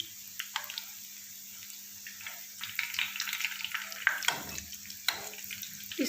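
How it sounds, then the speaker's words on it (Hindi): Resha kabab frying in oil, with soft crackling sizzle and scattered light pops and scrapes at a close range against a faint steady hum. "इसको भी हम तकरीबन 2 मिनट जो है वो फ्राई कर लेते हैं, नीचे वाली साइड को"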